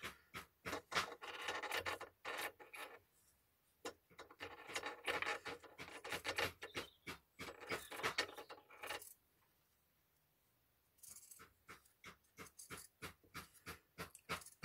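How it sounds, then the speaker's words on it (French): Scissors cut through fabric around a sewing pattern in quick bursts of crisp snipping and rasping, close and clear, with short pauses between runs and no talking. "on va venir couper directement notre tissu"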